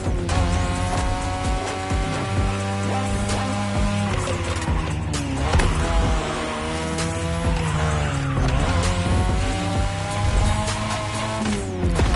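A race car in The Crew Motor Fest video game revs hard through mountain-pass driving, its engine whining up and down through gear changes while tires squeal and skid repeatedly, loud and close, with no talking.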